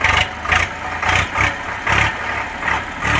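An Eicher 485 tractor engine idles close by, a loud rhythmic diesel chug pulsing about twice per second, steady and uninterrupted, with no voices.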